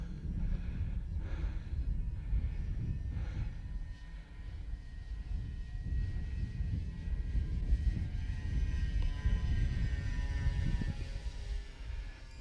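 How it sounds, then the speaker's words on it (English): Remote-control model airplane motor held at half throttle, a steady droning hum that runs unbroken throughout at moderate level, with faint breathing close by. "That is half throttle."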